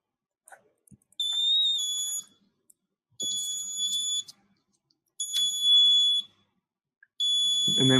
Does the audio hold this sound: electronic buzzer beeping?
yes